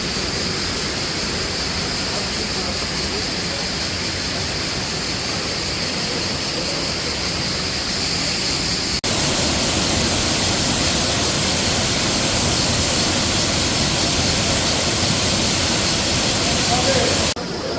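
Galgamaç waterfall in the Toprak Hisar canyon roars as a loud, unbroken rush of falling water, constant and close throughout with a slight rise in intensity partway through.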